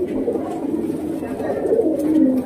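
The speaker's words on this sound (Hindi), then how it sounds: "एक नंबर क्वालिटी के कबूतर है" Allahabadi pigeons coo in low, throaty rolling calls, several birds overlapping close by in a continuous murmur with a rising coo near the end, with faint background voices.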